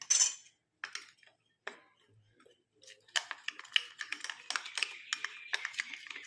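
A spoon stirs a thick paste in a bowl, producing bursts of light clinks and scraping taps, with short pauses early, then denser, quicker clatter toward the end.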